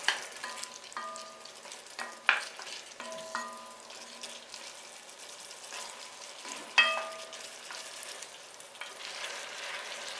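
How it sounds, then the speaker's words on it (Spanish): Potatoes and cauliflower sautéing in a pan for cauliflower soup, a steady soft sizzle punctuated by a few clinks and stirring scrapes, with no talking. "vamos a añadir las patatas. Las vamos a rehogar un poco. Y vamos a añadir la coliflor también."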